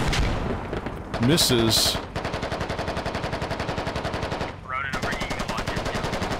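Sustained automatic support fire in the military shooter Squad, a steady rapid rhythm of shots continuing almost throughout, loud and close, with brief voice chatter over it.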